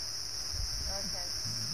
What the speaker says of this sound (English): these are cicadas